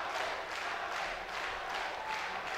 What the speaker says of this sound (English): Cheering. They're chanting.